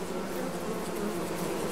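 Bees buzzing by a hive in Farming Simulator 22, a dense, steady insect drone with no breaks.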